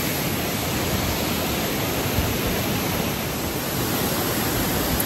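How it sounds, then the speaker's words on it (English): Loud rushing water of a stream at Mt. Shasta, a dense, steady roar that fills everything evenly and close by for the whole stretch, with no other sounds breaking through. "The water is running loud."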